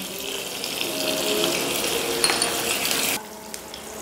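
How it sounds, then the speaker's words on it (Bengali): Curry leaves and green chillies spit and sizzle in hot oil left over from frying cauliflower, a steady loud crackle with a brief added hiss near the end before the sound drops to a quieter simmer. "কপি ভেজেছিলাম সেই তেলটাতেই আমি এবার দুটো কারি পাতা আর কাঁচা লঙ্কা ফোড়ন দিলাম"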